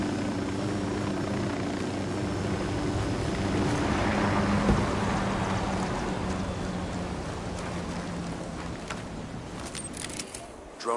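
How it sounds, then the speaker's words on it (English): Drone in the Ghost Recon Wildlands video game, a steady whirring buzz of rotors held at constant level, with a rain-like rushing wash over it and a brief clatter at the end. "Drone is airborne."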